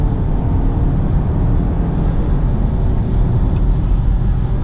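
A 2020 Land Rover Discovery Sport HSE R-Dynamic at full throttle, with a loud, steady engine and road roar that holds constant throughout with no voices.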